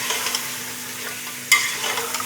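Mutton and chopped tomatoes fry in a karahi with a steady, bright sizzle, close up, with a brief louder scrape or stir partway through.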